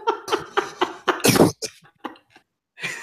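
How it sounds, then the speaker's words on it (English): A man coughs repeatedly at close range during a book-review podcast, a run of sharp hacking bursts with one loud, harsh cough in the middle and a last one after a pause. "I'm going to cough again."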